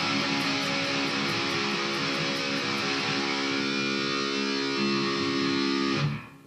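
A distorted electric guitar, strummed openly without palm muting, rings out as one loud, sustained and saturated chord that rolls for about six seconds before cutting off, with no talk.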